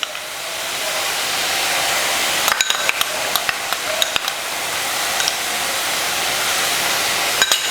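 Tomato sauce being mixed into chapati noodles in a hot pan: a loud, steady sizzling hiss with scattered sharp taps and scrapes of a utensil against the pan.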